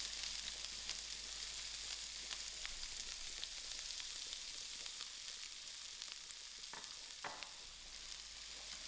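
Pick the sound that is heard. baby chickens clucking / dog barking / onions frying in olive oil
onions frying in olive oil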